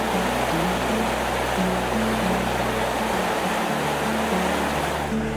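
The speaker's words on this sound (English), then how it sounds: "it's a massive waterfall section, this." A massive waterfall on a stretch of the Cumbria Way, swollen after overnight rain, roars as a loud, steady broadband rush of falling water, close by and continuous with no talk.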